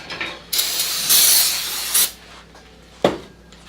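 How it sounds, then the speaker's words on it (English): Several bursts of pressurized brake cleaner spray hissing loudly onto a Honda Civic flywheel, one long blast followed by a shorter one, then a brief final spurt. "So I'm just spraying it down with some brake clean."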